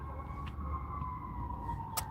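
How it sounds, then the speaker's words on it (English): An ambulance siren wails steadily in the distance, its drawn-out tone holding under a low rumble of background noise, with a couple of faint clicks. "Ambulance could be Archangel Michael"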